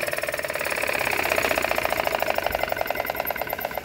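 A D16 diesel model engine runs steadily close by, its rapid rhythmic knocking firing pulses holding an even pace for the whole stretch, with no voices.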